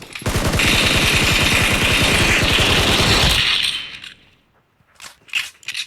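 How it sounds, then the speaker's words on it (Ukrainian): Rapid, continuous bursts of automatic gunfire in a mobile video game rattle loudly for about three seconds, then cut off, leaving a few faint scattered sounds afterward. "Ой по мені стріляють"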